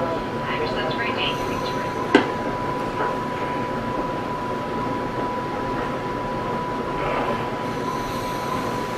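A Rail Runner commuter train rolls into a station with a constant low rumble and a steady tone, a single sharp metallic clank standing out early, heard from on board.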